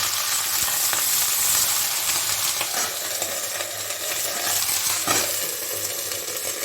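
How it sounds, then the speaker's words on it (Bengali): Okra frying in a little oil over high heat, a bright continuous sizzle up close with a few light clinks and scrapes of a utensil stirring the pan, no talking. "এখন আমি এই অল্প তেলে ঢেঁড়স ঢেঁড়সগুলোকে আমি একটু ভেজে নেব একটু হাই হিটেই ভাজবো"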